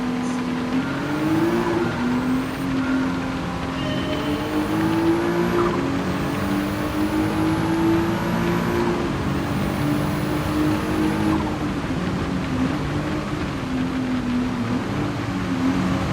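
Race car on a wet track in Gran Turismo 7, engine droning steadily with rising and falling pitch through gear changes, close and continuous over a faint hiss of spray.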